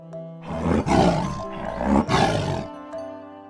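A tiger roars twice in quick succession, loud, rough and close, each burst about a second long, framed by faint tonal music before and after.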